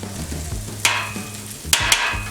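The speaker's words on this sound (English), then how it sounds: "we're gonna go ahead and break it up with our spatula" Chopped brisket being broken up with a metal spatula on a 36-inch Blackstone griddle, a steady close sizzle punctuated by three sharp scraping clanks of the spatula on the flat steel top.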